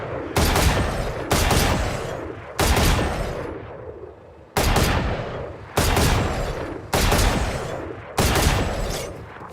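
Gunfire in the tactical shooter Valorant: a string of loud, sharp shots in short clusters, each followed by a decaying echo tail, close and alone without speech.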